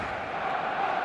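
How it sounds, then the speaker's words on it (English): Steady, dense crowd murmur fills a football stadium in a video game, a continuous expectant buzz at even loudness with no distinct cheers or voices standing out. "There's a real expectant buzz in the stadium"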